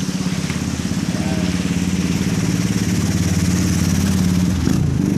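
A motorcycle engine runs through flood water, a steady, close, low chugging drone that holds its pace throughout, with a brief clunk near the end and no speech.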